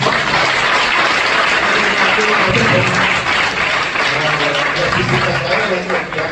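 A church congregation applauds for the Lord during a Hindi sermon, a steady, dense wash of clapping that holds loud for several seconds with a faint murmur beneath.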